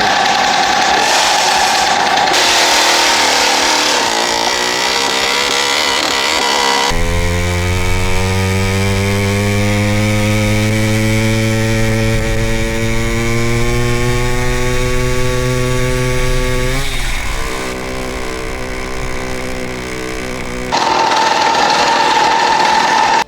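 A Komar Sport moped engine fitted with a Chinese PWK 21 carburetor runs loud and close, revving briefly, then settling into a steady buzzing idle whose pitch drifts, before a short dip and a return to higher revs.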